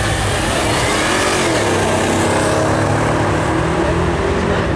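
A supercharged Jaguar XKR 4.2 accelerating hard at the Brighton Speed Trials, its loud, sustained engine roar filling the whole stretch with a continuous rising drone and no pauses.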